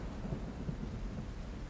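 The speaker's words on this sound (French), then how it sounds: "Les éclairs se déchaînèrent dans le ciel et la pluie tomba." A thunderstorm with rain plays as a dense, steady hiss of rainfall over a deep continuous rumble, loud and enveloping throughout, with no voices.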